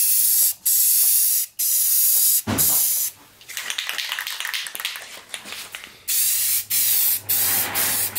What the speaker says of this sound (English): you're gonna trust me to spray paint at your floor?